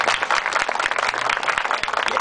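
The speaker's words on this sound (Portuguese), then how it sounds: "Outra salva de palmas forte para esse pessoal." A theatre audience claps for the technicians after a performance in Baturité, Ceará, in a dense, steady burst of applause lasting the whole moment.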